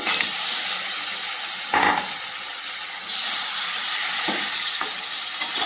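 Boiled mutton is stir-fried in a spice masala, giving a loud, continuous sizzling hiss broken by a few brief scraping bursts of stirring in the pan.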